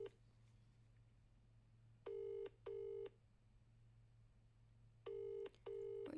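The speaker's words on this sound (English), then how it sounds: "Come on, Richard. Answer the phone." An outgoing phone call rings out unanswered, with four evenly spaced electronic ring tones in two pairs over a steady low hum, no voice picking up.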